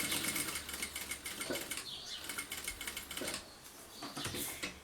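A sewing machine stitches binding on a fabric bag, a quiet, rapid rhythmic whirring in short bursts with brief pauses as the fabric is handled.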